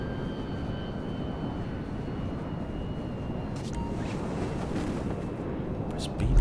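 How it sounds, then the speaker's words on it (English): A cargo plane in the video game GTA V gives off a steady, droning engine roar that holds through the whole stretch, with bursts of game noise near the end. "Press B to toggle focus on the cargo plane."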